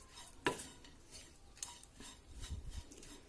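Jaggery and sugar are stirred in a pan on a slow flame, with a spoon scraping and clinking against the metal in irregular strokes, quiet and close, with a faint sizzle.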